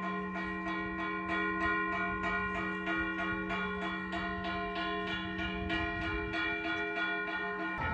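Church bells ring in Ribe, Denmark, with steady, overlapping strikes repeating throughout. The peal is loud and continuous, with no voices over it.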